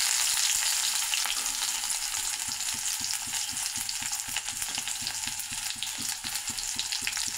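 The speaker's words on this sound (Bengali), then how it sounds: "ফোড়নে পেঁয়াজ দিলাম।" Onions sizzling in hot oil tempering in a pan, a dense steady crackle with frequent stirring clicks and scrapes, close and fairly loud, no talking.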